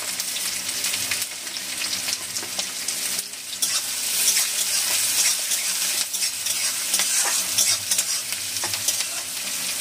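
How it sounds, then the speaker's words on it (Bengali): Chopped onions fry in hot oil with a loud, continuous close sizzle, punctuated by occasional stirring scrapes, steady over the whole stretch with no talking. "পেঁয়াজটা আগে দিয়ে দিচ্ছি তেলের মধ্যে। পেঁয়াজটা একটু লাল লাল করে ভেজে নেবো আগে।"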